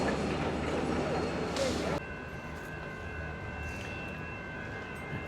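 A train stands at Mordialloc station with a steady rumbling hum throughout, a brief hiss near the start, and thin tonal whines from the carriage equipment. The sound is close and continuous.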